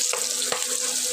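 Pieces of pointed gourd, potato and sweet pumpkin fry in oil on a stove, giving a steady close sizzle with faint crackles over the short stretch.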